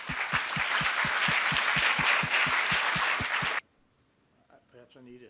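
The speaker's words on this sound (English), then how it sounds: "So once again, a great round of applause and congratulations to all our teams." A round of applause for competing teams at an award session, a dense, steady clapping crowd with sharp rhythmic claps over it, ending abruptly and followed by a brief moment of voices.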